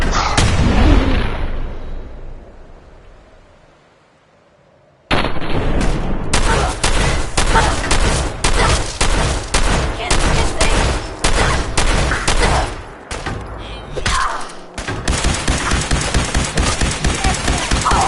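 Gunfire in the video game Fallout 4: a loud burst fades out, then after a short silence a long run of rapid, close automatic shots hammers on, broken by a brief pause before the firing resumes.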